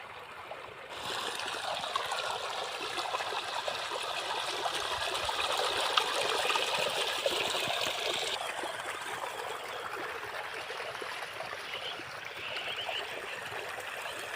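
Irrigation water flowing into a bajra field on a farm, a steady close trickling and gurgling stream running continuously without speech.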